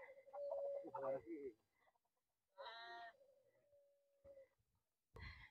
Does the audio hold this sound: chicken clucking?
yes